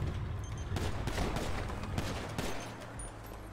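Dense gunfire crackles in a GTA roleplay shootout, rapid overlapping shots forming a loud continuous barrage with no pauses.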